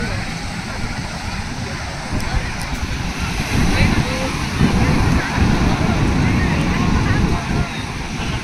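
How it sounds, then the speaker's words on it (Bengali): Ocean waves surge and crash on Chandrabhaga beach near Konark, a loud continuous roar with swelling breakers and wind buffeting the microphone. "এখানে ঢেউটা আরো বেশি"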